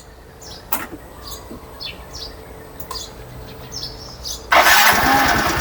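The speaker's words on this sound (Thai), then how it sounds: "ฟังเสียงสตาร์ทอีกทีหนึ่งนะ" Birds chirp quietly for a few seconds, then a Yamaha Grand Filano scooter engine cranks and catches, settling into a loud, close idle.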